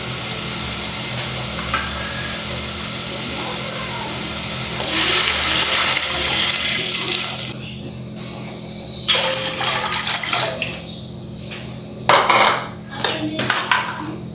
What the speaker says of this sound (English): Now let's add the water.